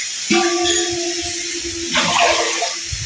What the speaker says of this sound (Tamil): 2 லிட்டர் தண்ணி ஊற்றிக்கோங்க.